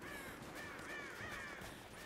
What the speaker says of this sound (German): Da sind ein paar Raben.